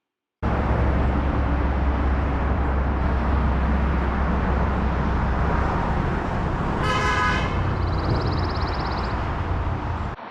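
Traffic on a busy road in Webster, Massachusetts: a continuous loud rush of passing vehicles close by, with a horn toot sounding briefly late on.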